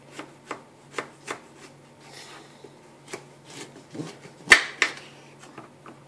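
Bell peppers cut in half lengthwise with a knife on a board, giving a series of crisp, close chops and scraping slices at an uneven pace, ending in a sharper knock.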